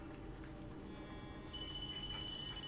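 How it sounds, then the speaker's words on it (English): An old telephone rings faintly in the Blair Witch video game, a thin steady tone rising out of a muffled, noisy outdoor ambience partway through. "That is an old phone."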